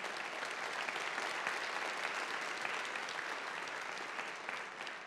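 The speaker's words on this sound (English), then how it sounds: "ask for a big round of applause for our colleagues who produced the video we just saw" Dense audience applause at a college State of the College address, a sustained, even roar of many hands clapping throughout, heard at a moderate distance and fairly quiet.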